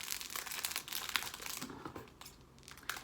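Plastic wrapping around a package crinkles and crackles up close as it is opened, in quick irregular bursts with brief tearing moments, fairly quiet with no talking.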